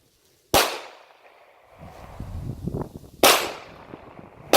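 Two sharp, loud AR-15 rifle shots ring out about three seconds apart, each with a fading outdoor echo, fired toward a 6-inch steel plate at a distant tree line; faint rustling fills the gap between them.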